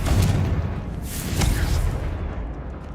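Confringo fire spell blasts in Hogwarts Legacy, a loud continuous rumbling burst with a couple of sharper booms over dense low game noise, no talking.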